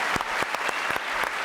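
A small studio audience on a French television variety show gives a brief, sparse round of applause: a handful of distinct, separate claps spaced out over a moment rather than a full ovation.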